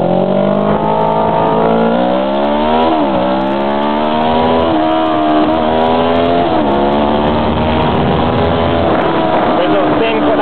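Two cars race along a two-lane mountain road with blind corners, engines droning loudly and steadily and rising and falling as they rev through the bends. People talk beneath the engine noise.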